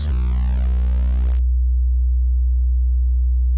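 A steady sine tone from a Solim patch in VCV Rack, starting with a brief rich, harmonically swept texture that cuts off after about a second and a half, leaving a clean, constant low hum that sustains alone to the end.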